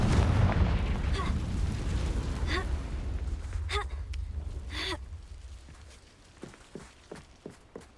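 A Confringo explosion spell in Hogwarts Legacy goes off with a heavy boom that rolls off into a low rumble, followed by several short sharp crackling bursts and fading debris sounds.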